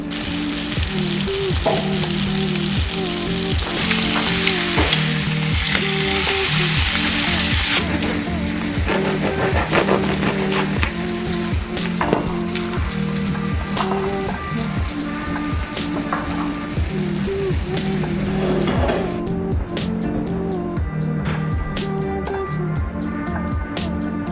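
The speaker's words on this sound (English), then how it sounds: "now I seasoned the fish with salt and pepper, and I'm just gonna cook that for like 5 minutes on each side" Fish seasoned with salt and pepper frying in a pan, a loud, steady crackling sizzle that runs without a break, with occasional clinks and scrapes from cooking in a home kitchen.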